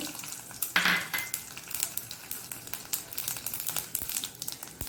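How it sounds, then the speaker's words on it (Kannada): Mustard seeds and urad dal crackle and sizzle in hot oil for a tempering, with sharp irregular pops over a frying hiss and a louder clatter of a utensil early on. "ಇನ್ನು ಸಾಸಿವೆ ಮತ್ತು ಉದ್ದಿನಬೇಳೆ ಎರಡನ್ನು ಹಾಕ್ಕೊಳ್ತಿದ್ದೇನೆ"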